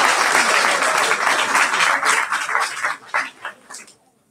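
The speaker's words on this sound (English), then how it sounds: "Give them a round of applause." Audience at a 5th grade graduation ceremony gives the graduating class a round of applause, dense and loud clapping that holds steady, then thins into a few final bursts before stopping.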